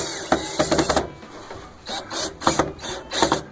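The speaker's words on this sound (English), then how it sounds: "then we go ahead and we secure it to our frame that we built using galvanized steel screws." Galvanized steel screws driven into a wooden frame: bursts of ratcheting, whirring driver noise, one short run and then several quick pulses after a pause, close and loud.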